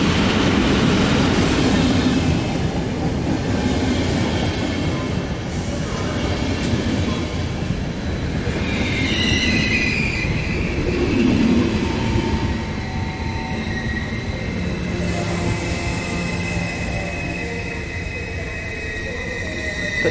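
An EU07 electric locomotive hauls a train through Katowice station, a loud, steady rumble of wheels with rail clatter and high squealing tones rising and fading over about twenty seconds.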